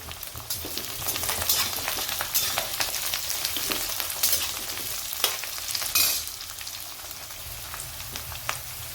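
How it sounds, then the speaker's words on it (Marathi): Onion with green chilli and curry leaves sautéing in a hot pan gives a steady, moderate sizzle with light stirring scrapes, and no one talks. "आपण आता कांदा टाकू। कांद्याला पण परतून घेऊ।"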